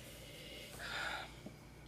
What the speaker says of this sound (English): let's give it a snippy sniff